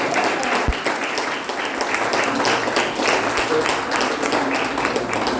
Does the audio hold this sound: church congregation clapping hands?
yes